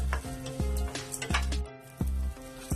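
Green chillies fry in hot oil in a pan for upma, sizzling steadily while a spoon stirs and scrapes against the metal in regular strokes, close and clear.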